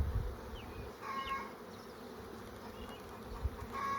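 Honey bees buzz steadily around a frame lifted from a brood box during a hive inspection, a close, continuous drone with a few brief louder passes.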